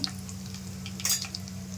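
Ingredients sizzle and crackle in a hot pan, a steady close frying hiss with a few light clinks of a utensil against the pan.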